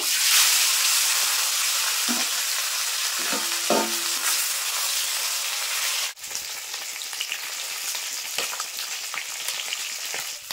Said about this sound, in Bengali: এবার বাকি যে মাছগুলো আছে একইভাবে ভেজে নেব।